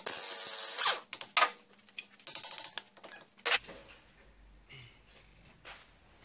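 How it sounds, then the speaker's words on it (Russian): A wrench or ratchet loosens the front hub nut on an Opel Antara during a wheel bearing replacement, quick bursts of metallic ratcheting clicks and rattles up close, followed by quieter clanks and pauses. "Так, для начала откручиваем ступичную гайку."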